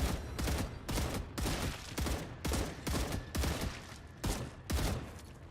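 Rapid gunfire in the video game StarRupture aimed at a creature's legs, coming as a series of loud, evenly spaced bursts of shots with brief gaps between them, nearly continuous across the whole stretch.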